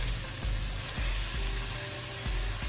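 Sliced green onion white bulbs fry and sizzle in a pan for a Southern green beans and parsnips dish, a steady close crackle broken by several soft stirring scrapes at a loose rhythm, with no voices.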